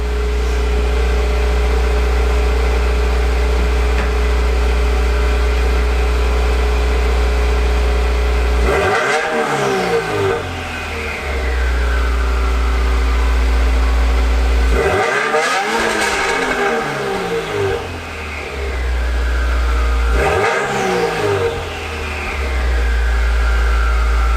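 A 2015 Subaru WRX with stock mufflers idles with a steady drone, then is revved three times, each blip rising in a sharp roar and falling back to idle; close and loud, no talking.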